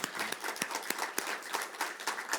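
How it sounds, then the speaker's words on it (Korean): A congregation at a Korean church Sunday service applauds a deacon with scattered, quick hand claps. The applause stays fairly faint and even throughout. "우리 박수 한번 주세요."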